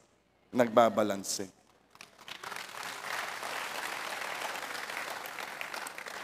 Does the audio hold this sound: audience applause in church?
yes